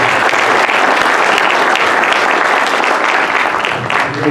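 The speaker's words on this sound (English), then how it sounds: "let's have a round of applause" Loud, sustained applause from an audience at a 2019 power sweeping industry award ceremony, a dense steady roar of clapping throughout that thins slightly near the end.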